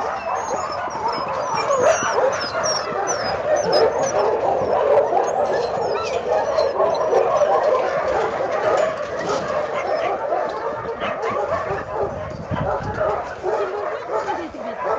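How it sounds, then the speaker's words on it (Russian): Many dogs barking, yipping and whimpering in a temporary quarantine area of an animal shelter, a loud continuous chorus of overlapping barks near and far, with people talking over it throughout. "За звук извиняемся, здесь просто лай"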